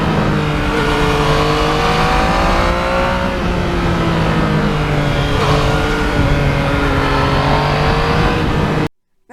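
A Yamaha MT-09 motorcycle engine pulls hard at wide open throttle, a loud, sustained roar with rising pitch sweeps through gear changes, ending abruptly.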